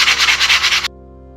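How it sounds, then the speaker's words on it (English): Filled holes in a wall are sanded by hand, giving a close, loud rhythmic rubbing of several quick strokes that stops abruptly, leaving a low hum. "these holes here that I filled are dried now, so I can just rub down a little bit"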